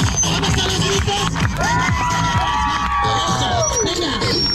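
A crowd shouts and cheers at a buffet restaurant in Mexico City, with loud, continuous whoops and high whistling cries layered over a busy hall.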